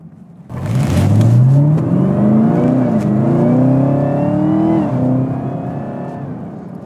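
A supercharged 2021 Ford Bronco engine revs up loudly with a rising supercharger whine, holding high, dipping, then easing off as the roar fades.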